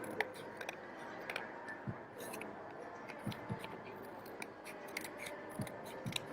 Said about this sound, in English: let's quickly cut this